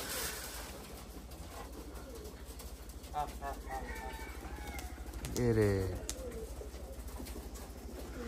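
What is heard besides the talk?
pigeon flying and cooing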